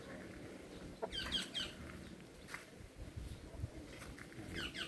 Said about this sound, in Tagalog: so far so good naman ang ating mga alaga yan ang ating mga brahma